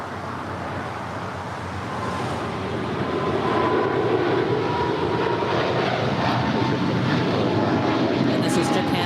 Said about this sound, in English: this is Japan Airlines Flight 15. Heading to Tokyo Haneda, 777-300ER